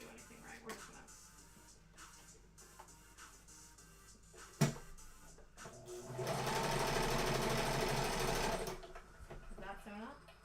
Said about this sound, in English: we just gonna sew it right up real fast